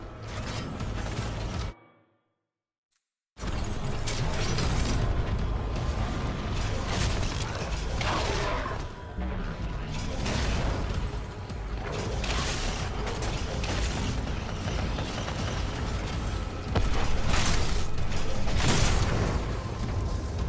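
Titan embarking sequence in Titanfall 2, with dense layered mechanical clanks, creaks and servo whirs after a brief silent gap, continuing loud and busy with game effects throughout.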